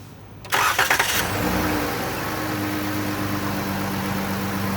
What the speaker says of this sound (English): So let's start the car up right quick.